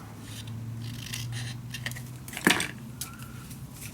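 Scissors snip a small piece of paper for a vintage winter mini album, a faint close rustle followed by one crisp cutting snip over a low background hum.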